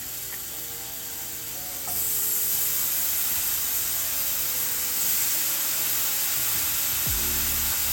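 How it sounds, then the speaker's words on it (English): Smoked sausage hitting a hot skillet and sizzling, a steady hissing that grows louder partway through, with a brief clunk near the end. "I'm just going to add them to the skillet."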